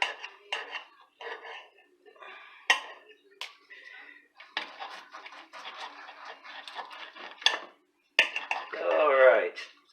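A knife slicing a cooked tri tip roast, with close clinks and scrapes of metal on plate and board in short irregular bursts while someone talks.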